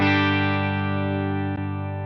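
A sustained distorted electric guitar chord through a Boss Katana 100 Head MKII amp with its plate reverb setting rings out with a smooth, dense reverb tail that slowly decays.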